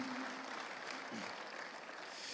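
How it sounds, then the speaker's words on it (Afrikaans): A church congregation claps hands together in worship, a steady, dense patter of applause that stays fairly faint and even throughout. "kom ons gee die Here 'n hande klap"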